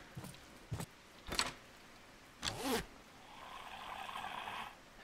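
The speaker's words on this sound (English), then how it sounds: "I guess that noise I hear is the container closing." A container closing in the video game Parasitic Descent: a few short scraping zips in quick succession, then a longer rising zipper rasp, followed by a steady soft whirring hum; quiet, with no voices.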